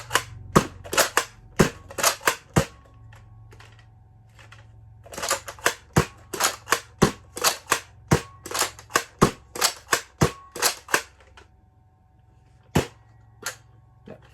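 Sharp, loud snapping shots from a six-shot Nerf N Series Agility revolver blaster, fired in quick rhythmic bursts with short pauses between groups.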